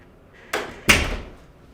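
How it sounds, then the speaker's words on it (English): Door being closed in a GP consulting room: a soft first contact followed by a louder, sharp latch thud that quickly fades, heard alone and close. "Sorry, absolutely, I'll just close the door."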